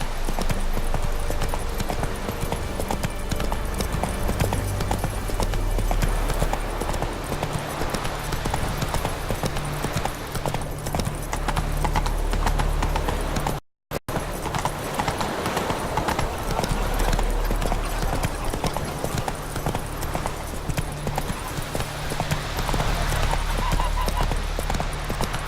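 Roach, the horse in the video game The Witcher 3, gallops with a steady, fast clip-clop of hooves that runs throughout, breaking off only for a brief moment midway.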